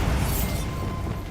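A Bombarda blasting spell in Hogwarts Legacy bursts into a broad, roaring explosion that hisses brightly at first, then settles into a rumbling wash of debris noise over about a second.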